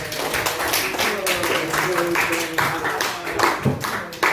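Classroom applause for a pupil after a poetry reading, a steady patter of hand claps filling the room with faint voices mixed underneath.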